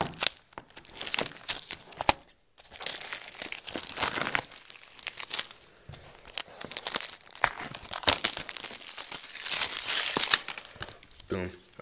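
A knife slices through the cardboard and plastic wrap of a Borderlands 2 special edition box, giving close, crinkly tearing and crunching bursts with short pauses, while someone talks over parts of it.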